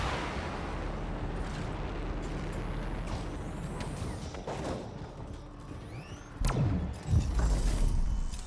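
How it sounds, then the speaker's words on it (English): A fire grenade bursts in the Anthem game amid dense, continuous combat noise, with a loud low blast swelling near the end over a steady rumbling bed. "I think I threw a fucking fire grenade on us!"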